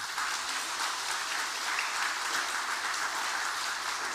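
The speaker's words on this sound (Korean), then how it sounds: "그래도 한나 찬양대 찬양 축하 박수 한번 해주시기 바랍니다." Church congregation applauding the choir after its hymn, a broad, even wash of many hands clapping throughout, fairly loud and uninterrupted.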